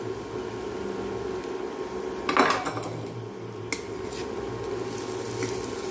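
A spoon scrapes and clinks against a pan while siru kizhangu stir-fry with coconut is stirred, giving a few brief metallic knocks and shuffling over a low, steady background hum, with nobody talking.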